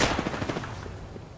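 A Kraber sniper rifle fires in the Apex Legends video game: a loud, close burst of gunfire that rings and echoes away over about a second.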